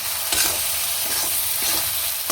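Loud, close sizzling of spice paste, coriander, cumin, ginger and tomato being sautéed in oil in a pan, a dense continuous fry broken by a few stirring scrapes.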